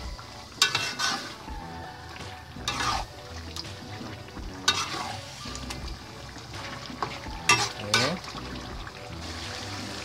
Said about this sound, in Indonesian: Ini kita aduk sampai cabenya matang lagi